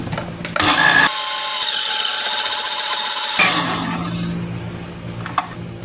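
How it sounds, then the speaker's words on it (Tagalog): Electric blender whirring for a couple of seconds in a kitchen, a loud, dense, high-pitched motor whine that starts and stops abruptly, framed by lower clattering handling noises before and after. "Mag-blender ka lang"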